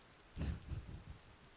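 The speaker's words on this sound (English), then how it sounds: "It's thundering outside." A distant rumble of thunder rolls outside under steady rain, a low muffled boom lasting about a second before fading into the patter.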